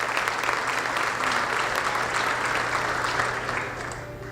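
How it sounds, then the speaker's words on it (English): Audience applause at a school district State of the District event, honoring district leadership; dense, sustained clapping from a large crowd that holds steady for several seconds before tapering slightly near the end. "let's give our leadership a round of applause also"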